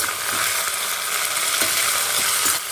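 Tamarind and ginger fry in sesame oil in a pan for a thogayal, a bright continuous sizzle with a few soft clicks of stirring, steady and close without any talking.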